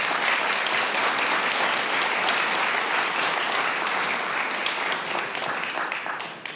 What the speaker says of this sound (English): So let's just give her another round of applause.